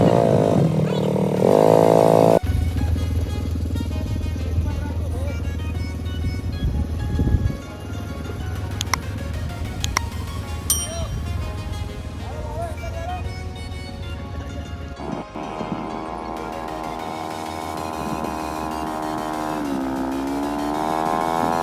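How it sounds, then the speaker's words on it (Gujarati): A small scooter's engine hums and buzzes steadily while being ridden at Saputara hill station, its tone shifting as it speeds and slows, with voices and a child's high sounds over it. "તો હવે આવ્યા છે સ્કૂટર ડ્રાઇવિંગમાં"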